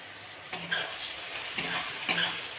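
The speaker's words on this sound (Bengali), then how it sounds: "একসাথে অল্প হালকা ভেজে নেব" Bay leaf, cardamom and cinnamon fry lightly in a pan with a soft, continuous sizzle, broken by three brief scrapes or stirs of a spoon.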